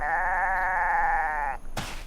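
A sheep gives one long, loud, wavering bleat close by, held for about a second and a half before a brief clatter of other sounds.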